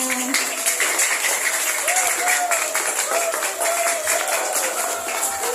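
Elementary school students clap together during an anti-bullying workshop in a classroom, a dense patter of applause that carries on throughout while voices talk over it.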